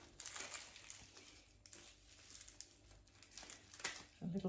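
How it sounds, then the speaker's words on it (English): Plastic packets holding crystals are opened with scissors, giving faint, close crinkling and rustling of plastic throughout, with soft snips and light handling noises. "I did get some scissors. Help me open these packets up."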